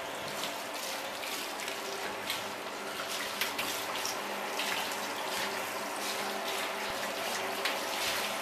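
Water runs and splashes steadily into a tub while a dog is bathed, a continuous hissing pour with small sloshes, fairly quiet and close.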